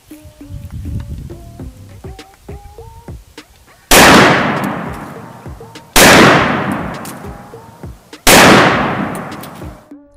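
Three real Desert Eagle pistol shots, each a loud, sharp close blast with a long ringing decay, spaced about two seconds apart after a stretch of quieter clicks and handling sounds.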